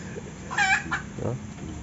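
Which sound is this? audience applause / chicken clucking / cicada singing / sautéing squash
chicken clucking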